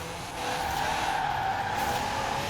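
Diesel 2018 Mercedes-Benz X-Class pickup truck tuned for rally and off-road, drifting in a video game, tires skidding in a sustained squeal over a steady engine drone, loud and continuous with no talk.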